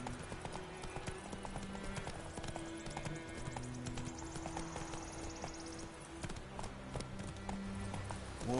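A horse gallops in The Witcher 3: Wild Hunt, its steady rapid clip-clop of hooves running continuously over a background music bed, with no pauses.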